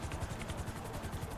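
Rapid rhythmic thumping of helicopter rotor blades in the video game GTA V Online, a steady chopping whir holding at an even, moderate level throughout.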